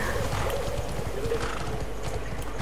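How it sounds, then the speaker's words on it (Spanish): Horse hooves in the fantasy MMO Bless Online make a steady, rapid clip-clop that runs throughout at an even, loud level under a busy game ambience. "Ahora un caballo"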